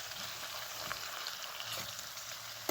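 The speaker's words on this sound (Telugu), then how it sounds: "టమాటోలు వేసేసి ఒకసారి ఇలాగా కలిపేస్తాను." Chopped tomatoes sizzle and fry in a hot pan while being stirred and mixed into a curry, a steady crackling hiss with occasional scraping, no talk.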